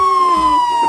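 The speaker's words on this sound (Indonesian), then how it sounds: "Ada truk pemadam kebakaran." A loud electronic siren tone holds steady in a short burst, bright and close, like a toy fire truck's wailing siren.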